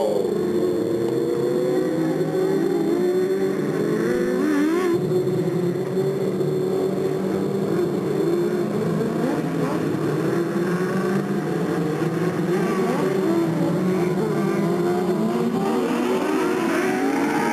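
Race cars lapping Delta Speedway, a 1996 oval race: continuous loud engines whine and rise and fall in pitch as cars accelerate, with layered revving from several cars throughout.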